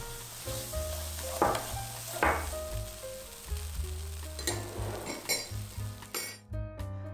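Pumpkin filling stir-fried in a pan, repeated scraping strokes and clinks of a spatula against metal over continuous sizzling, close and rhythmic, with no speech.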